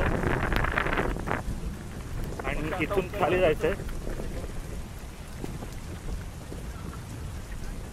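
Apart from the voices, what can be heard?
rain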